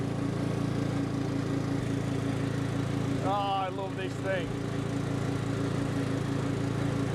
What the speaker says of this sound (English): I've always wanted a ride-on lawnmower